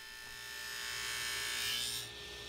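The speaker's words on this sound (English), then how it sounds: "it's back to the table saw, where you can see I'm using my spline cutting jig to make a spline cut in the corner of the frame" A table saw with a spline jig cuts a slot into the corner of a poplar frame, a steady muffled whir and rasp that swells then tapers off at the end, heard alone and moderately quiet.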